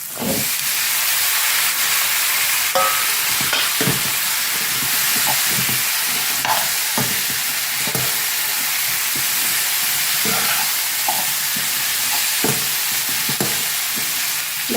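A steady loud sizzle of pumpkin frying in a pan, with frequent scraping and clinking as it is stirred, no talking.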